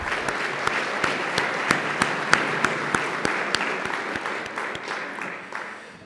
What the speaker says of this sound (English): Let's give our representatives a round of applause